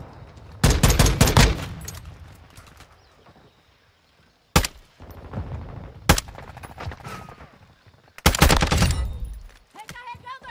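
Video game gunfire in Call of Duty MWII comes as loud, close bursts of automatic fire and single sharp shots, separated by quieter gaps with faint background sounds.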